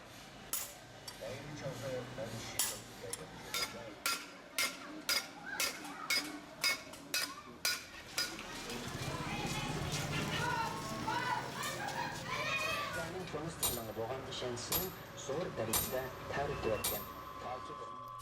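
Artisans in the narrow old town alleys of a Uyghur community craft silverware by hand, with steady rhythmic metallic tapping about twice a second, then busier clinks and street bustle, moderately close.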